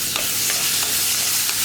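Chopped tomato is stirred into a hot frying pan for vendakka thakkali moru curry, a bright continuous sizzle broken by several quick scraping strokes of the spoon.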